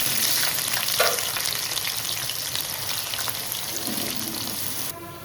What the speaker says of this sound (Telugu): దీంట్లో ఆనియన్స్ ఫ్రై చేసుకోవడానికి సఫిషియంట్ ఆయిల్ తీసుకుంటున్నాం అన్నమాట.